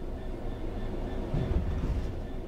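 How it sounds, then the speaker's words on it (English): A train in the Train Sim World 3 game rumbles along as its brakes are applied, a steady low mechanical drone with a slightly heavier surge midway and no voices. "Bring this train to a complete stop by holding the brake control in the apply state"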